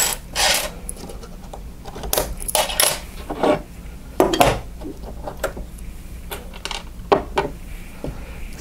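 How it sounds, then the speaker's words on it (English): Small metal screws and parts clinking and rattling on a work surface while the gearbox of an LCT LC-3A3 (G3 SG1) airsoft gun is taken apart, with scattered close, sharp ticks and taps and no talking. "Last screw on the back here to take out."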